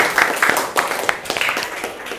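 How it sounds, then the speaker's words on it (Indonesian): Applause in a classroom, students clapping in a brief, fairly loud patter of irregular claps that fades within a couple of seconds. "Tepuk tangan untuk Atalia."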